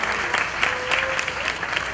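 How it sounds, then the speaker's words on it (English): An audience applauds award recipients at a ceremony with steady clapping from a crowded room, a faint voice underneath. "let's give them a round of applause for all the hard work"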